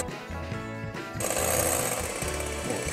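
An electric mixer whipping egg whites with sugar for chocolate mousse, a loud continuous whirring buzz that jumps to a harsher, higher-pitched whine partway through, close by with no talk.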